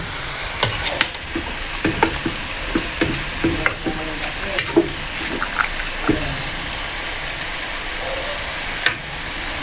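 Laing, the taro leaf dish, sizzles and fries in a pan with a continuous hiss, broken by irregular clicks and scrapes of stirring.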